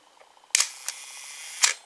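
An Olympus OM-1 film camera with a Zuiko 50mm f/1.4 lens fires its shutter and flips its dampened mirror: a sharp mechanical clack, a lighter tick, then a second clack, crisp and close in a quiet room.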